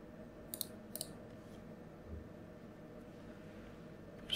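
Computer mouse double-clicking during CAD fixture design work: two quick, faint click pairs near the start over a low steady background hum, then quiet.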